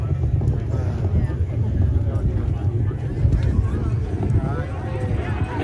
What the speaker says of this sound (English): Main engines throttling up